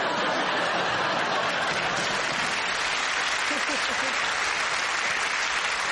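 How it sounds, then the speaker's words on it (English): Studio audience applause on a British comedy panel show, a dense, steady wash of clapping that holds at full strength for the whole stretch, with a little laughter and crowd murmur mixed in. "The applause begs to differ."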